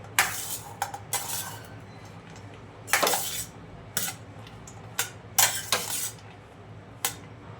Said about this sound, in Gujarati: હવે બધું આપણે મિક્સ કરી લઈએ.